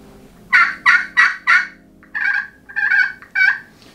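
A Hickory wood turkey call, freshly acquired and not yet reconditioned, sounds a loud imitation gobble: four quick rattling bursts followed by three longer raspy calls, close and alone with no talk.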